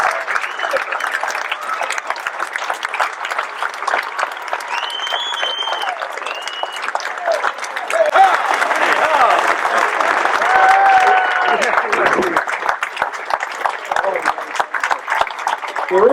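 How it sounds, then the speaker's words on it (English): An audience at a roast bursts into sustained applause, dense steady clapping that swells in the middle and carries on to the end, with a few whoops and scattered voices mixed in. "please join me in giving a warm round of applause for Mr."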